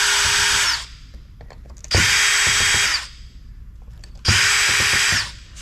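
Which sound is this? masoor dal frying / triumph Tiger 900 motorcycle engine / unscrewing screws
unscrewing screws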